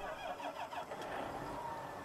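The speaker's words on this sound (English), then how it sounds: "And let's crank up the tractor. Gonna be loud." Tractor engine in Farming Simulator 19 cranking and catching, a steady loud mechanical drone with a brief rising whine, close and continuous throughout.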